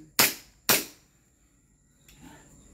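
A Glock 17 airsoft pistol fires two sharp, close shots about half a second apart, each a loud crack with a quick decay, followed by faint handling noise.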